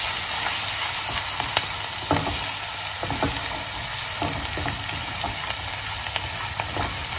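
Onions and curry leaves sauté in a hot pan, giving a steady, close sizzle with scattered crackles and pops that run unbroken from start to finish.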